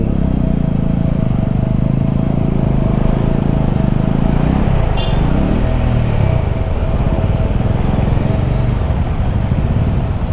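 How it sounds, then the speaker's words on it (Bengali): Motorcycles idling and rumbling close by while riders park their bikes outside Hotel Blissful Stay in Gangtok, a steady engine drone that fades partway through into quieter mechanical clatter. "এই যে সবাই বাইক রাখছে এখানে।"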